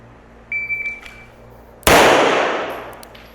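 In a draw-to-first-shot drill with a Canik or CZ Shadow 2 pistol at a target about 10 yards away, a short electronic timer beep sounds, then a single sharp, loud gunshot rings out with a lingering decay.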